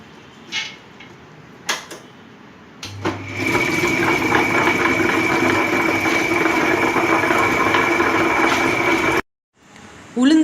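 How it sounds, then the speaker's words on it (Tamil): A wet grinder churns soaked urad dal into idli batter, a steady loud whirring rumble that runs continuously for several seconds after a few clicks and handling knocks, then cuts off abruptly. "இப்போ நம்ம வந்து உளுந்து அரைப்போம்"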